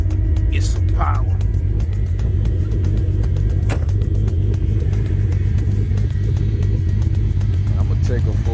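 A worked Oldsmobile Cutlass G-body holds a steady, loud rumbling idle with a slight rev throughout, its low engine drone continuous and close, with a few faint knocks over it.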